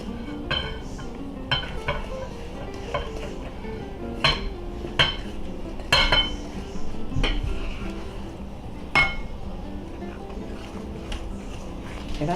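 Flour worked into chocolate chip cookie dough in a bowl, with irregular clinks and knocks of a utensil against the bowl, close and moderately loud, no talking.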